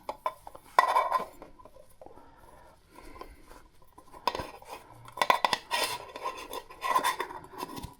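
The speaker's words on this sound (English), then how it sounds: "in here I've got my gas stove and a scour." A camping gas stove and a scourer are handled: metallic clinks, scrapes and rustling bursts, fairly close and irregular, with quiet gaps between.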